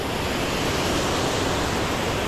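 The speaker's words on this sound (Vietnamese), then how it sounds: "nước nó chảy không được to lắm. Nhưng mà nước nó vẫn là rất là xiết này" Fast, swift stream water rushing through a shallow, low-season streambed in a valley in Cao Bang, a loud, continuous close roar of flowing water with no voices.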